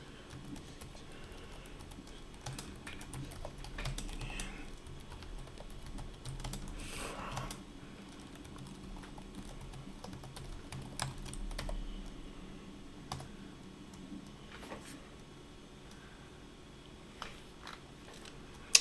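Code is typed on a computer keyboard in quiet, rapid bursts of soft key clicks with brief pauses, close and steady throughout.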